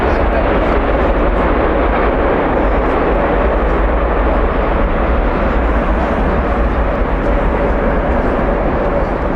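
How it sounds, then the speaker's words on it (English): An Airbus A350 airliner at Heathrow Airport produces a loud, sustained roar of jet engines that fills the scene steadily without letting up. "There is that A350 mentioned earlier, which came out of the hangar."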